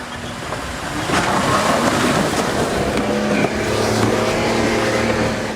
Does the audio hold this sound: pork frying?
no